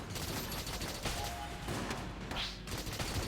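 Rapid, near-constant weapon fire in Exit the Gungeon rattles in a dense, unbroken stream, loud and busy with overlapping shots and no pauses.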